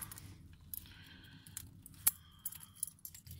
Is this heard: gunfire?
no